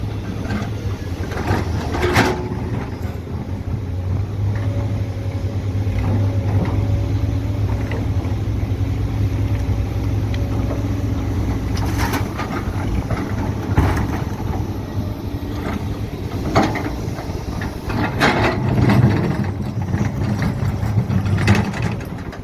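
Two CAT 320D excavators prying at bedrock, a steady diesel engine rumble running throughout, with scattered sharp clanks and knocks of metal buckets against rock and occasional surges in power.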